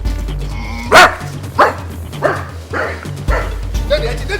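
A man imitates a dog with loud, rough barks and growls, several bursts spaced out over a few seconds, amid a dramatic confrontation, with background music underneath.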